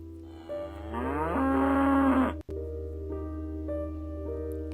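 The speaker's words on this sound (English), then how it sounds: "There's a cow." A cow in the puzzle game Cube Escape: The Mill lets out a long, loud, harmonic moo that rises and swells before cutting off, followed by a steady tonal drone with no talk.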